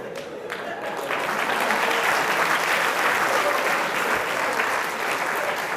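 Audience at a comedy show bursts into applause, the clapping swelling after a moment into a loud, dense, sustained roar that continues to the end.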